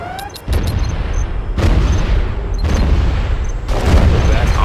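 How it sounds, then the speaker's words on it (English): Offshore artillery shells hit in the game Command & Conquer Generals Zero Hour: four heavy, rumbling booms land about a second apart, each blast decaying into the next, loud and close. "Bombardment."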